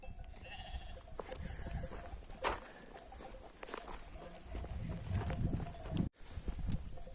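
Sheep and lambs bleat faintly across a farmyard while the animals are being chased, with scattered footsteps and patter and a few short calls amid background noise.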